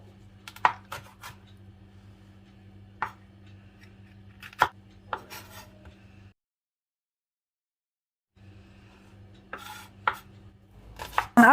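A knife chops vegetables, potatoes and bell peppers, into small cubes on a board, giving scattered sharp taps over a low hum, a silent gap midway, then a closer burst of quicker cuts.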